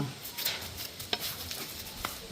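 Beef curry being stirred in a pot in a Jaffna home kitchen, a quiet simmering bubble broken by a few soft scrapes of the spoon against the pot.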